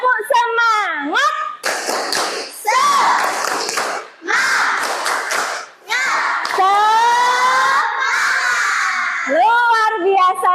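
A classroom of children doing a rhythmic spirit clap, bursts of hand claps and stamps alternating with loud chanted and shouted lines from young voices, energetic and close.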